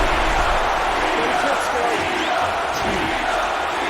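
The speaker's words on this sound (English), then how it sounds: "And the crowd again cheering for Tito Ortiz." Crowd cheering at a UFC fight in the video game UFC Undisputed 3, a steady roar of arena noise with no pauses, loud and continuous throughout.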